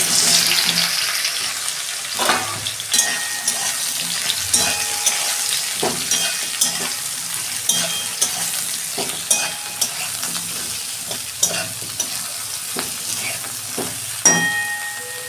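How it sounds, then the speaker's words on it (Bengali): Okra fries in hot oil in a wok, with a steady sizzle and repeated scraping stirs of a spatula against the metal, close and clear. "তেল গরম হয়ে গেছে, আমি ঢ্যাঁড়সগুলো সব একসঙ্গে ভেজে নেব"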